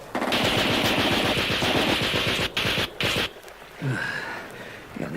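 Rapid, sustained burst of machine-gun fire from a Japanese machine gunner in a wartime river assault near Balikpapan, loud and close, breaking off briefly before a few more rattles and a fading tail.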